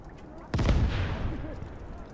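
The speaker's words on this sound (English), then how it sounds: "I think I've got mortar firing." A single loud mortar report in the WWII video game Gates of Hell, a sharp boom followed by a long rolling rumble that fades over a couple of seconds, with a faint voice underneath.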